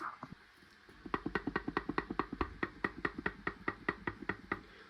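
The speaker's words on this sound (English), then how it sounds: "That is the truss rod inside rattling about because it's loose" A loose box truss rod rattles inside the neck of a Chinese copy Les Paul guitar as a fast, even run of quiet hollow knocks, about twenty in a row, close and faint, with no talk.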